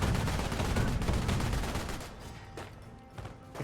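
Gunfire from a unit in Company of Heroes, a dense burst of rapid, loud shots for about two seconds, then thinning to a few scattered, fainter reports.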